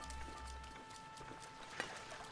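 Horse galloping in Zelda: Breath of the Wild, a steady run of clip-clop hoofbeats held fairly even over a constant game backdrop, with no talk over it.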